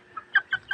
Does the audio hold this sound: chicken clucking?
yes